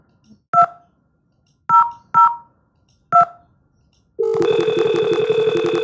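DTMF keypad tones from an Asterisk IP phone on a Debian VoIP setup: four short, separate dialing beeps spaced unevenly, then a steady electronic ringback tone that continues to the end.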